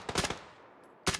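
Suppressed gunshots in a first-person video game: a quick cluster of three or four muffled shots, a short pause, then one more, fairly close and crisp over quiet background.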